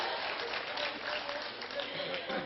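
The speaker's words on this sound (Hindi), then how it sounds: "ताली बजाओ।" Spectators at a Hindi poetry gathering (kavi sammelan) in Shamli break into clapping, a steady wash of applause heard through a muffled, band-limited recording with voices faintly mixed in.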